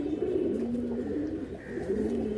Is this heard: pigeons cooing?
yes